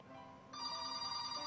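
A phone ringtone plays steadily with a bright electronic tone that grows fuller partway through, fairly faint and with no talking over it.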